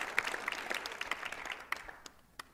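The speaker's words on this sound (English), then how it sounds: "I think we should give them all a clap, don't you?" A small audience claps after a talk in a quiet, scattered burst of hand claps that thins out and fades to a few isolated claps by the end.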